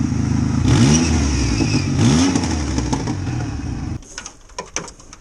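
A Ford Ranger engine with a fueling problem revs up twice with extra fuel, rising and falling loudly and close, then drops back toward idle and fades into clatter and light knocks.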